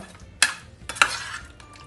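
Prawn marinade for chilli fry being mixed in a bowl, two or three quick squelching, scraping stirs with brief pauses between, close and fairly loud.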